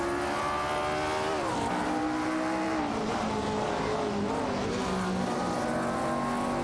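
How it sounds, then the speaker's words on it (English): Race cars, including a Matra MS7, speed around a track in an AI-driven racing video game, a continuous droning engine roar with pitch rising and shifting as gears change, several cars blending together. "MD 162 and Unipaki are fighting it out for the 7th position."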